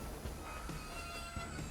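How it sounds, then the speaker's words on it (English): A video game train rides on rails toward the Soviet Union, giving a continuous rumbling roll with rhythmic wheel clicks and a faint high squeal, steady and fairly loud throughout. "So we board a train and go for a nice scenic ride to the Soviet Union."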